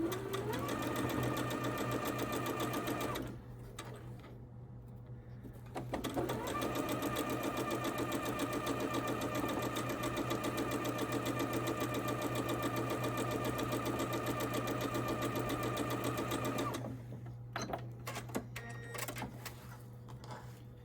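A sewing machine stitches quilt blocks in close, steady, rapid runs, pausing briefly once midway before starting again and stopping near the end.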